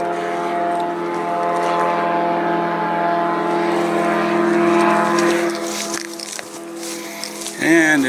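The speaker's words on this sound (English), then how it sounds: "I'm always hearing airplanes when I'm doing hikes around here." A propeller airplane drones overhead above a forest hiking trail near Port Alberni, British Columbia, making a steady, fairly loud hum with layered tones that holds throughout and swells briefly near the end.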